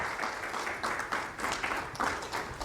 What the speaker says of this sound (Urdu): میں تالیوں کے ساتھ گزارش کروں گا انہیں ویلکم کریں